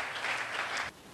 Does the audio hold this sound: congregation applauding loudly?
yes